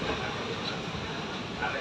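A steady, loud, broadband rumble and rush fills the space, without pause. It comes from inside a passenger train just departing Porbandar on the Bhavnagar line.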